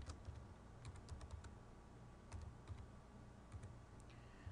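A password being typed on a computer keyboard, a quick burst of close, crisp key clicks in short irregular runs over a faint steady room hum.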